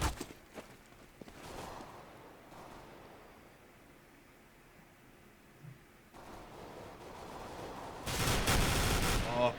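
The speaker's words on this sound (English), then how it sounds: "beautiful play there from Krunty as he takes out 3 there with the Clarion, or the FAMAS" Bursts of FAMAS rifle fire and other gunshots from a Counter-Strike: Global Offensive match sound near the start, and a louder, denser volley comes near the end, with quieter game ambience in between.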